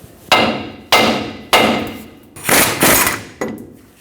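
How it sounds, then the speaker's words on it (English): A hammer taps a ball joint into a Ford F-350 track bar, about six sharp metallic strikes in an uneven rhythm, loud and close with short ringing decays and no talking. "Give it a couple taps right here."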